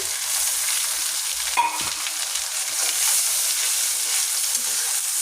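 A paste of turmeric, chili, salt and ground cumin sizzles and spits in a hot pan, a steady frying hiss with a brief clatter of stirring partway through.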